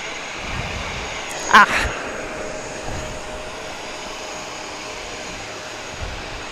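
A Silkway West Airlines jet airliner at JFK airport, a steady, moderately loud engine roar heard from a distance outdoors, with one brief sharper burst early on.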